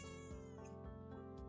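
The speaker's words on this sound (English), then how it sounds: "I heard her meow." A cat meows repeatedly indoors, drawn-out, yowling calls close to the listener that run together over a steady background.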